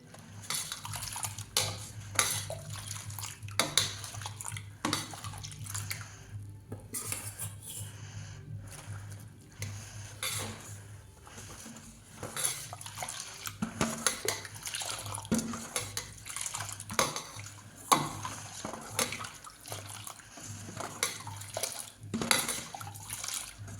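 Rice flour being stirred with water in a bowl produces close clinks and scrapes of a utensil against the bowl, with soft wet swishing, in uneven repeated strokes.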